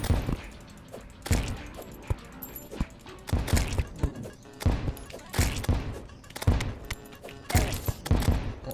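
Grenades bursting one after another in Terraria, a string of sharp, punchy blasts at uneven intervals, each followed by a brief rumbling tail.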